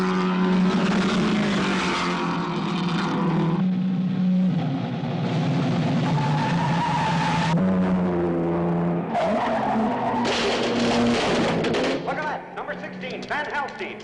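Race cars roar past on a circuit and one spins off onto a grass bank, with loud engine tones rising and falling and a long skid, while someone talks over the action throughout.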